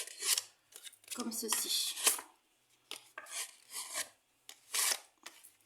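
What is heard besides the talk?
bone folder creasing printed paper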